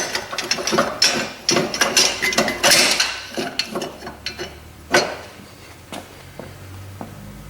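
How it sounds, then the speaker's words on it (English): Metal clanks, ratcheting clicks and scraping as a Dodge Viper engine mount bracket is slid and jiggled into place, a close run of irregular knocks that thins out toward the end. "Slide the bracket in. Jiggle it a little bit."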